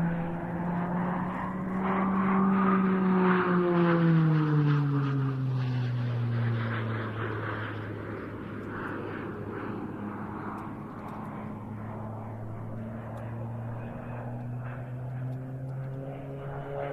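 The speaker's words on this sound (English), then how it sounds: "Pilot today is Andrei Fiorelli, the long-standing Slovenian Air Force PC-9M Hudurnik display pilot." A Pilatus PC-9M turboprop trainer of the Slovenian Air Force flies past at an airshow, its propeller drone rising then falling in pitch as it passes, loud and sustained, then settling into a steady hum farther off.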